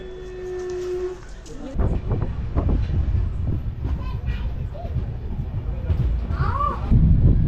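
The 12662 Pothigai Superfast Express passenger train rumbles steadily with rhythmic rattling of wheels and carriages, loud and close, with occasional faint voices.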